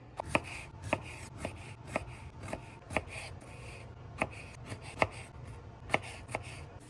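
A knife slices fresh strawberries for strawberry and lemon scones, giving about ten crisp, close cuts in an uneven rhythm with a soft rubbing between strokes and no talking.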